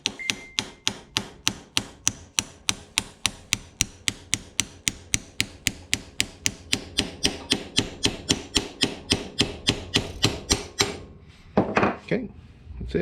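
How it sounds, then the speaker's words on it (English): An old bearing race driven onto a small-block Chevy crankshaft by tapping on a socket with a hammer: a long, steady run of evenly spaced metallic knocks, close and crisp, slowing slightly before stopping near the end. "So I have an old race here and a socket, so we can tap that on."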